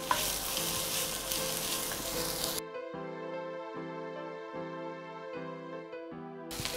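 Sliced onions sauté in a pan with a loud, dense sizzle that cuts off abruptly for a stretch of melodic music, then the frying hiss returns briefly at the end.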